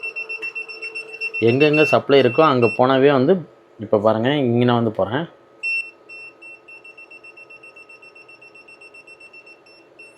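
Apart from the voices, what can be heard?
TOOL TOP X5 clamp meter NCV live wire beep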